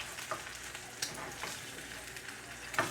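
Egg frying in a pan, a quiet, soft sizzle with faint crackles and a few small pops scattered through it, with no talking.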